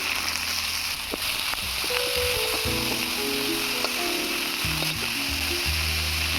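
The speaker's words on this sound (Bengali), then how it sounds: "এবারে উচ্ছেগুলো ভেজে নেব।" Bitter gourd frying in oil in a pan, giving a steady close sizzle with faint crackles and the occasional utensil tap. No one speaks.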